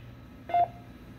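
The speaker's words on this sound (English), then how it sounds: "There's your courtesy tone and 3 second hang time." A Vertex VXR9000 radio repeater with an Arcom RC210 controller sends a single short courtesy tone beep, clear and brief over faint background hiss.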